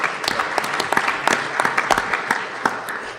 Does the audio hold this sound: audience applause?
yes